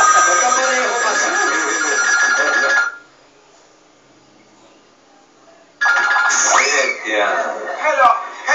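A mobile phone ringtone plays loudly on a Philippine noontime variety show stage, a melodic electronic tune sounding for about three seconds, stopping, then resuming for several more seconds.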